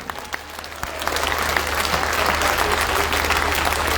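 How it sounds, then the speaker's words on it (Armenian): Crowd applause at a political rally in Gyumri, Armenia, a dense steady roar of many hands clapping that swells slightly louder after the first second and holds. "Ծափահարություններ Գյումրիին։"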